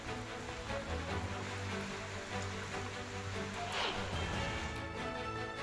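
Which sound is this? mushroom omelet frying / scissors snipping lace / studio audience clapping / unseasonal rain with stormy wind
unseasonal rain with stormy wind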